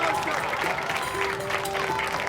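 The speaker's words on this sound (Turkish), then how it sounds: "Alkış." Applause from a small group at a family gathering, a short continuous wash of clapping with faint voices and a steady tone underneath.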